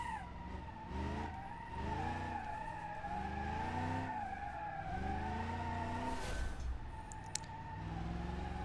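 Car tires screech and skid through a drifting corner in BeamNG.drive, with a loud, steady engine roar rising and falling beneath the squeal for several seconds.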